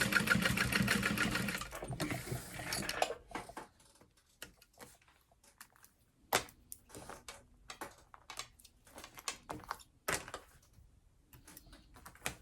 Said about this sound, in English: you want to make sure you're sewing far enough over to catch your card slots